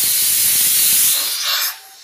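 A pressure cooker loudly vents steam in a continuous hiss that stays strong for over a second, then shifts and fades to a quieter tail.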